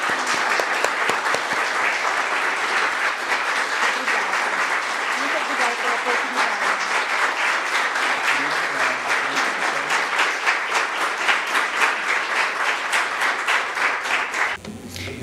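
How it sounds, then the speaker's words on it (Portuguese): A congregation gives a long, even round of applause at a religious gathering, the dense clapping staying loud and steady throughout before cutting off abruptly near the end. "Salva de palmas para a nossa..."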